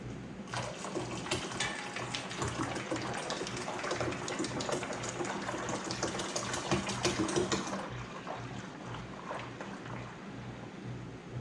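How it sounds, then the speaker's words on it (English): Filtered water runs steadily into an old brewing fermenter, filling it to the 2-gallon mark on a brew table, a continuous close rushing pour that stays loud before easing slightly near the end. "we're gonna add some water, filtered water, up to the 2-gallon mark"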